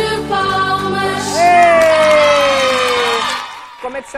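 Cheering and whoops from a studio audience at a birthday celebration on a Portuguese television variety show, a loud steady crowd roar with shouted voices rising over singing-like tones, fading near the end.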